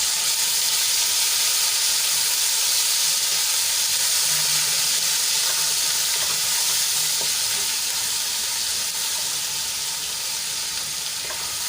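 Ginger, garlic and green chili paste sautéing in hot oil in a home kitchen gives a loud, steady hiss and sizzle with faint crackles, continuous and without talk.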